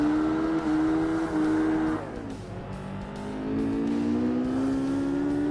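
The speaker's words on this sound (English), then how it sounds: "They are shockingly accurate car engine noises." A loud racing car engine in Forza Motorsport (Xbox, 2005) roars continuously, pitch climbing, dropping sharply as it shifts, then climbing again with a steady whine.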